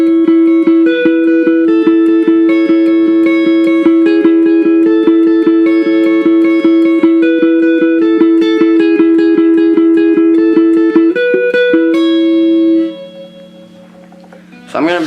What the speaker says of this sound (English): you should hear another guitar playing something like this.